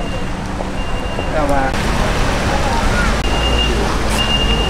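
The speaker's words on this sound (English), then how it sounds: "unfortunately it's raining heavier now" Heavy rain pours steadily on a street in Jiufen Old Street, Taiwan, a constant broadband hiss with passing traffic and faint voices mixed in throughout.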